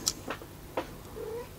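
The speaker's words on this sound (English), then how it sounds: "I have to ignore my cat, which is meowing" A house cat meows a few short, quiet times indoors, with small ticking sounds between the calls and no talking.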